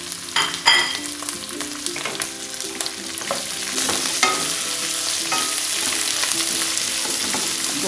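Green chilies and green tomatoes stir-fried in a pan with onions for tahu tauco, loud steady sizzling under the repeated clatter of a spatula scraping and stirring.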